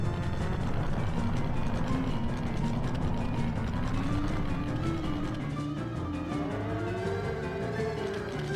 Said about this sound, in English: That's the sound of one of the giants?